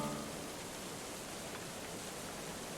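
Steady rain falling on farm fields, a soft continuous hiss of drops throughout, faint and even with no talk.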